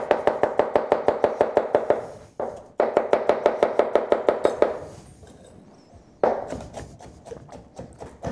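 Knife chopping cucumber on a cutting board for mango pineapple salsa, a fast steady run of crisp close taps in bursts, with brief pauses between rounds.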